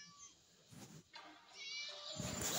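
A cat gives a few short meows, close but fairly quiet, with a louder cry building toward the end.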